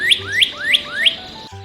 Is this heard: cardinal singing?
yes